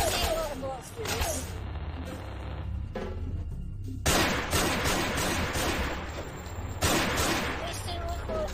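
Gunfire from the Madness Project Nexus flash game on hard mode, repeated punchy shots and bursts mixed with game music and effects, fairly loud with a voice talking over parts of it.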